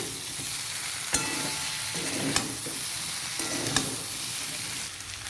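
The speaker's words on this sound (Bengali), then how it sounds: "এই দেখুন আমি নেড়ে নিচ্ছি" A spoon stirs jackfruit curry with garam masala in a pan, a constant sizzling hiss broken by three sharp scraping clanks against the pan at regular intervals.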